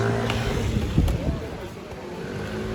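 A Ruf CTR Yellow Bird sports car engine roars steadily nearby in a Paris street, a loud continuous rumble with a brief rev in the middle.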